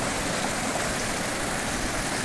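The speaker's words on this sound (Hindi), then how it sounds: "बड़े बड़े पत्थरों के बीच से पानी कलकल करते हुए बह रहा है" Constant rushing of a river tumbling over large rocks near Dehradun, a dense, even hiss with no pauses and no voices.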